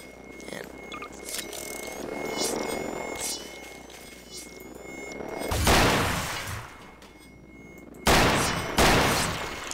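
Gunfire rattles in Garry's Mod, with a low rumble giving way to loud, harsh bursts of rapid shots, one long volley followed by two short sharp ones near the end.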